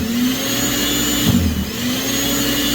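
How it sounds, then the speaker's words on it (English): Tractor-mounted snowblower, six or seven feet wide, running in deep snow after a snowstorm, a loud steady mechanical drone with a brief surge midway, no voices. "Dad's got the snowblower on, and I believe this is, I don't know, 6 foot, 7 foot snowblower."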